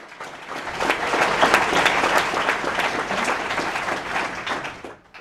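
An audience gives a round of applause at a startup weekend presentation in Perth, with dense, even clapping from a crowd that holds steady and then tapers off.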